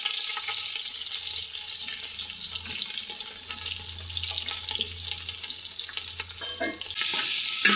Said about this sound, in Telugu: ఇప్పుడు ముందు అన్నీ పెట్టి ఆయిల్ వేసిన తర్వాత ఉల్లిపాయలు కూడా వేసుకుంటున్నాను.